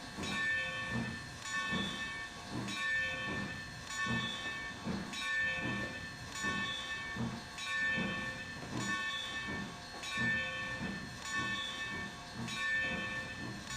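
A train creeps slowly along in the Trainz 2022 rail simulator, with a rhythmic clatter of wheels over rail joints and a soft steam hiss repeating evenly and quietly throughout, with no one speaking.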